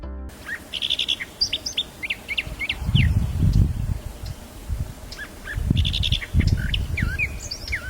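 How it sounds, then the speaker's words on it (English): An Eastern Orphean Warbler sings in phrases of clear, varied whistled notes and short trills, near and prominent, with a pause between two song bouts and a low rumbling background beneath. "The Eastern Orphean Warbler sings with a voice that feels both controlled and expressive, like a storyteller weaving a tale through sound"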